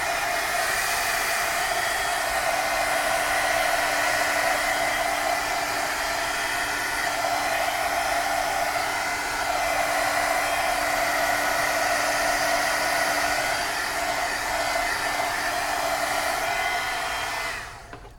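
A hair dryer blows on fresh glue and paint in an art session, making a steady, close, whirring hiss with a constant hum that runs evenly, then cuts off right at the end.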